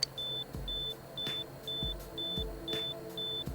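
A medical monitor in the Persona 4 Golden video game beeps in a steady rhythm, about two high, clean tones per second, with soft low thuds under them. The sound is quiet and stands alone.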